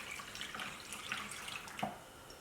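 Heavy chawanmushi egg custard stock, made with dashi, is poured into a container, giving a soft, steady liquid splashing and trickling with no talk.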